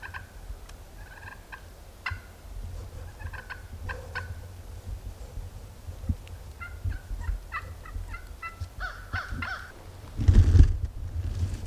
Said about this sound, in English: now we hear the turkeys behind us